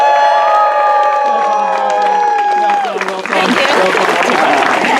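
Sustained, gliding tones open a stage performance of Macbeth, then a theatre audience breaks into loud, thunderous applause and cheering that fills the last couple of seconds.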